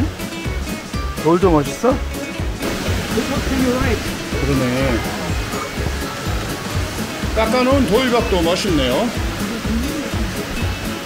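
A steady rushing roar of a waterfall in the Smoky Mountains fills the background close by, while people chat over it.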